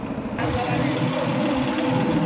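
A shallow-pump (shallow engine) bhatbhati vehicle idles close by on the Kanla–Katwa road with a steady, loud mechanical chugging hum, rising in level just after the start and holding for the rest of the clip.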